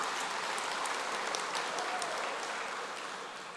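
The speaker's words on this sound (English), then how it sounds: "Let's give her another round of applause" Sustained audience applause at a polytechnic graduation ceremony, a dense, even wash of many hands clapping that holds steady throughout and tapers slightly at the end.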